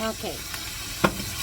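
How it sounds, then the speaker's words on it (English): Beef and garlic sizzle softly in a pan as they are stirred, with a low hiss and a single clink of a utensil against the pan. A voice speaks one brief word at the start. "I'm going to give that a little stir"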